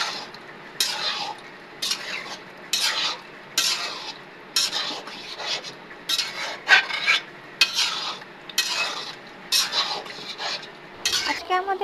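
Potatoes and pre-boiled liver stirred in a pan: repeated scraping strokes of a metal spoon against the pan, about a dozen rhythmic bursts over a low sizzle, close and fairly loud.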